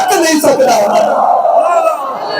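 A crowd at a milad religious gathering chants religious slogans in unison, a loud, continuous mass of raised voices that stays strong for the whole stretch, with slight swells.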